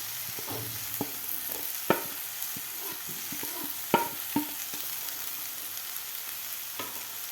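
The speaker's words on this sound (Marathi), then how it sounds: "तर व्यवस्थित आपल्याला हे मिक्स करायचं आहे खालच्या मसाल्यामध्ये फ्लावर" Grated cauliflower being stirred into sizzling masala in a pan, with a soft steady fry and irregular scraping taps of a spoon, close and moderately loud, with no talking.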